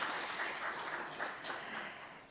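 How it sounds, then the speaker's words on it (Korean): An audience at the opening ceremony of a cultural strategy forum applauds following a welcome address, a steady, dense patter of clapping from a roomful of people sustained throughout. "그래도 한번 박수 부탁드리겠습니다"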